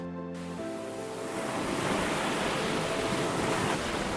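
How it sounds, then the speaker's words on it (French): Sea waves surround a boat out at sea off the coast for a sea-fishing event. A brief musical tone comes first, then a steady, loud, broad wash of surf and water rushes along without pause. "Nous voici en mer, Jean-Luc."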